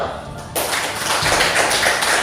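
Students in a classroom break into a burst of hand clapping that starts abruptly and continues steadily, a dense patter of many hands filling the room.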